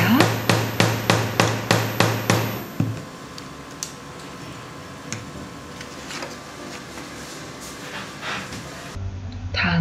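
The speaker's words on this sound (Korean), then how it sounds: "30mm 간격으로 3번 타공하여 끈이 들어갈 6개의 구멍을 만들어줍니다." A hole punch is hammered through leather for a small shoulder bag strap, about eight sharp, evenly spaced knocks near the start, followed by softer handling clatter and scraping.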